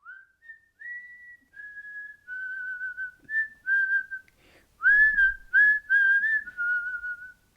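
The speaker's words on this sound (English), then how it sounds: "I find myself, like, whistling it like it's this jaunty show tune" A single person whistles a slow, jaunty rendition of a theme song, a series of clear sustained notes and short phrases with brief pauses between them, close and alone without other sounds.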